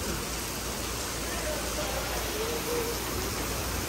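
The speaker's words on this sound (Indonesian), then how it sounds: "Hujan lebat, kat atas tak tahu. Ini hujan." Heavy rain falls in a steady, dense hiss at an even loudness, with a faint voice murmuring briefly underneath.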